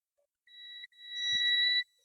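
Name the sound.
multimeter continuity beep testing MOSFET on Dell laptop board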